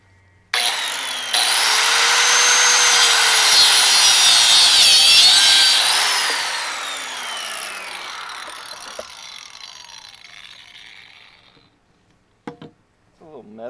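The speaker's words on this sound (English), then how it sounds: "I'm going to cut this with this kind of thing. Metal cutoff wheel." A small metal cutoff wheel from Lowe's grinding through the oil cooler lines of a 1997 Chevy 6.5 diesel, a loud, steady high-pitched screech that holds for several seconds, then winds down and fades, followed by a few faint clicks.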